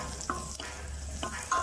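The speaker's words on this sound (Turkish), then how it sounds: "Şimdi soğanımı kavuruyorum." Onions frying in a pan, a steady close sizzle with a few brief stirring scrapes and no voices.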